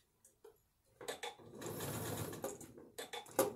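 A sewing machine stitches printed cotton fabric with long basting stitches, starting in short bursts, then running in a steady close whirring rattle of about a second and a half before stopping and restarting briefly.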